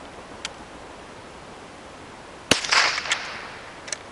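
A Federal .22 Long Rifle round fires once outdoors with a sharp, loud crack, then a brief noisy tail and a couple of faint clicks, with no talking.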